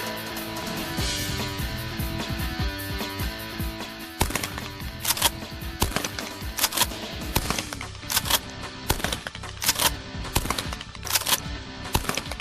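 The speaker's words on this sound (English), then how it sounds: "shooting a Winchester SXP 12-gauge pump shotgun" Sharp gunshots from a Winchester SXP 12-gauge pump shotgun with a magazine extension tube, fired at clay targets. Loud, rapid blasts come in quick succession over steady background music, with no talking.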